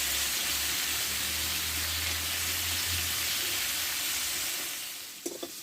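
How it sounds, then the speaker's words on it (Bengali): Snake gourd fries slowly in a pan, releasing its water into a soft, steady sizzle with a gentle hiss throughout and a brief stirring clatter near the end. "আমি ধীরে ধীরে ভেজে নেব।"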